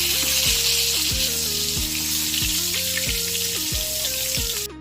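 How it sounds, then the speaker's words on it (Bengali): Eggplant slices sizzle loudly and steadily in a frying pan, with a close, continuous hiss and crackle of hot oil. "এই পিঠটা এবার হবে ভাজা।"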